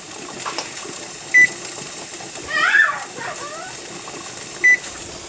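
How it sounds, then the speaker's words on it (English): A kitchen timer beeps twice, about three seconds apart, as a 90-minute timer is set for processing quart jars of venison. Each short, clear beep sounds over faint kitchen background noise. "I'm going to start a 90-minute timer here"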